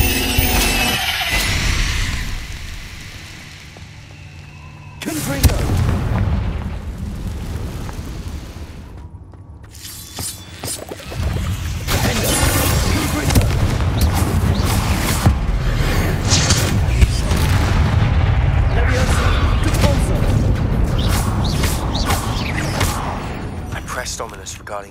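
Confringo blasting spells explode in the Hogwarts Legacy video game, giving loud, dense booming bursts with rumbling debris over continuous game sound, including a short quieter lull; a voice talks over part of it.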